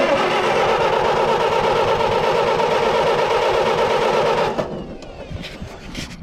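An engine being cranked over by its starter, a steady rapid churning drone held for about four and a half seconds before it cuts off, leaving faint rattles and room noise; close and loud, no speech.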